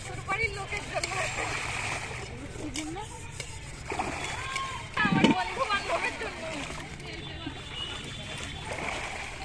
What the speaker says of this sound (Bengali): সবার জন্য ডুব দাও।